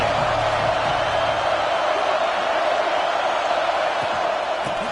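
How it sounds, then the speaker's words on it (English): Simulated stadium crowd in College Football 26 gives a sustained, dense roar of cheering, steady and loud throughout without distinct peaks. "This crowd ready to make its presence known."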